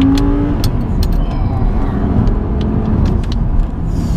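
Audi R8 V10 Plus with a gated manual gearbox accelerating hard on a country road, a loud continuous engine roar heard from inside the car, with no talk.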